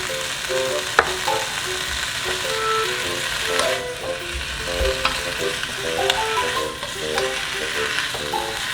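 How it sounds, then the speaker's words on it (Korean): Sliced potatoes stir-fried in hot oil with garlic and salt: a soft continuous sizzle broken by repeated close scrapes and clicks of a utensil against the pan. "감자를 넣고 소금 반 스푼을 뿌린 뒤 30초 정도 볶아주세요."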